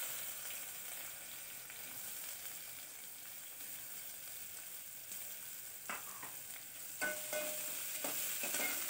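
Chopped onion and curry leaves fry in a pan as a faint, steady sizzle, with a few soft stirring scrapes and clinks toward the end and no talking.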